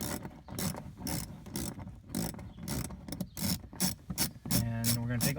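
Ratchet wrench with a Torx 20 bit loosening bolts on a Chevy Cruze 1.4 during a cold air intake install, giving rapid repeated clicking bursts close by, with a brief metallic ringing near the end.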